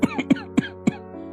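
A sick elderly man, weakened by illness, coughs up close: five harsh, throaty coughs in quick succession over about a second, then a fainter rasp.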